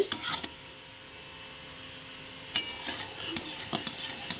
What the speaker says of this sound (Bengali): গুড় দেখো কত সুন্দর জাল হচ্ছে